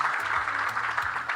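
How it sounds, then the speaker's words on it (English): An audience at a business panel on African trade gives a speaker a round of applause, steady mid-loud clapping filling a brief stretch. "Let's give her a round of applause, ladies and gentlemen."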